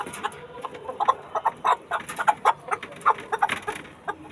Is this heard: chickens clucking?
yes